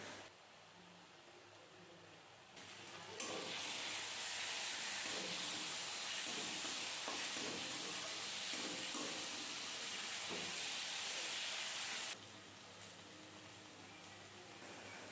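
Pabda fish curry with potatoes, with ground coriander and cumin frying in hot oil in a pan, gives a loud steady sizzle and hiss that swells for about nine seconds before easing back to a quieter fry.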